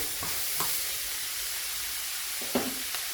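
Garlic sizzling in a frying pan for spaghetti bolognese, a soft steady hiss with a few brief stirring clicks, fairly quiet and close.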